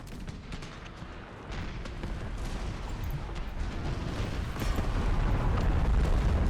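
Grenades exploding in an Empire: Total War battle, a dense rumbling barrage of deep booms and crackling blasts that swells steadily louder, with no talk.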